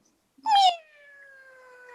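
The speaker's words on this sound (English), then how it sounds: "at that point in time, again, the cat meowed" A single clear cat meow, rising then drawn out and slowly fading, close and loud with a soft tail lasting over a second.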